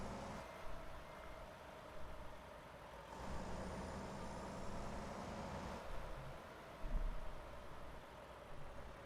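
Truck braking in American Truck Simulator: a heavy rig's engine rumble with hissing air-brake releases and a steady low drone, no talk.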